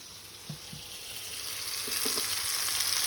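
Chicken pieces with onion sautéing in a pan give a steady, close frying sizzle that slowly builds louder, with a few soft stirring knocks; no one speaks.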